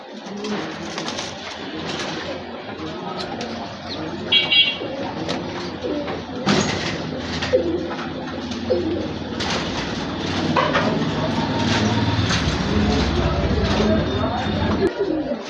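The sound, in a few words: pigeons cooing in a pigeon house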